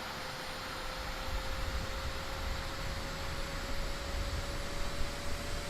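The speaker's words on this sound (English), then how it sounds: "sounds like the APU is coming to life nicely" Auxiliary power unit of a Boeing 787-8 airliner in Flight Simulator spinning up, a steady broad whooshing roar with a thin constant whine, even and unbroken throughout.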